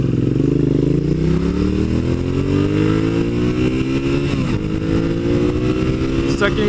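A balanced V-twin motorcycle engine revs up through rising gear pulls, its loud throbbing note climbing steadily with a brief dip midway, while a rider talks over it.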